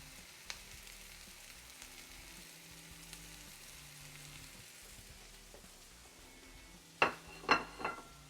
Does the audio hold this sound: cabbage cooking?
yes